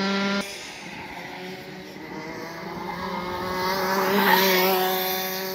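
A Rotax Max kart engine on the track at Bayford Meadows holds a steady, high, buzzing drone that climbs gradually in pitch and loudness as it accelerates. No one talks over it.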